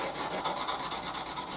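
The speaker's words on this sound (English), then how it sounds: "using the sandpaper, we'll just sand this down a little bit more" Sandpaper is rubbed over a Mini Maglite flashlight body in quick, even strokes, a close, steady scratchy rasp repeating about every tenth of a second.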